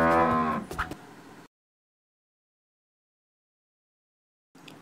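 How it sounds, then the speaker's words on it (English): A cow moos loudly once, a deep drawn-out low call lasting about a second, then silence. "Yes, it's cow. Cow gives us milk."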